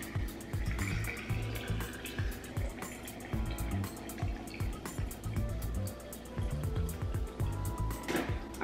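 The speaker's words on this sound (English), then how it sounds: "Now you're gonna fill it up with the water." Water poured into a bottle already packed with ice, a steady liquid fill with faint clinks and rattles running throughout, close and moderately loud, with a brief splashy burst near the end.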